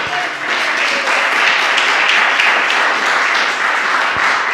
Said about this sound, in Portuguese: aplaudimos o Senhor bem forte nessa noite